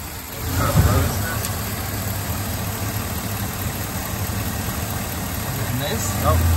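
A 2010 Chevrolet Silverado 2500 work truck with a broken transfer case runs its engine, a steady, close, unbroken drone that holds level throughout and swells slightly near the end.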